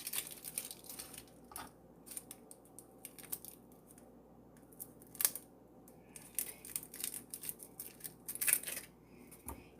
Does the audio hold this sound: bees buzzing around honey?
no